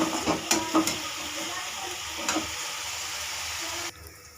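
Chunky onions with asafoetida fry in a pan for a spiced taro gravy, a dense, close sizzle broken by a few sharp spatula clicks early on, then cutting off abruptly near the end.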